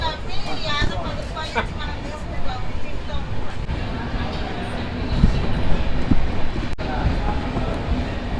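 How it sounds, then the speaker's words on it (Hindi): Train 12795 Mysore–Jaipur Superfast Express, sleeper class, rolls along with a steady, loud rumble and rattle of the carriage throughout, with faint voices murmuring beneath it. "तो ये है हमारी train number 12795 Mysore Jaipur express"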